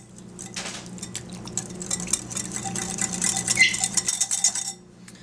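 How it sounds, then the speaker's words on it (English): A whisk clatters rapidly against a bowl, mixing a coleslaw sauce with garlic powder and black pepper, a busy metallic rattle that builds and then stops abruptly near the end. "And then whisk this all together."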